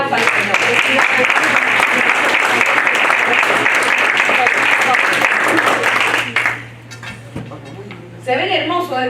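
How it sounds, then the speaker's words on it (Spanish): A church congregation applauding: dense, loud, sustained clapping fills the room for several seconds, then fades as a voice begins speaking over the thinning claps. "Denle un aplauso al Señor."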